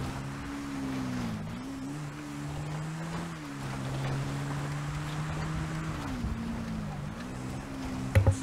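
A snowmobile ridden through the game world of GTA 5, its engine droning steadily with the pitch rising and falling as it speeds up and slows, loud and close, with a few clunks at the end.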